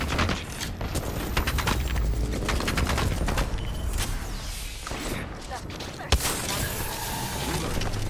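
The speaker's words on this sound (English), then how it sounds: "Taking fire." Apex Legends gunfire, with rapid automatic bursts close by and one sharp crack near the end, over dense game noise with some voice lines underneath.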